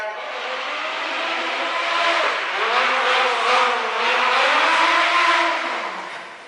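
A stunt hero car is driven during a live stunt show, its engine revving and rising and falling in pitch with steady continuous loudness, sometimes with a faint tire squeal.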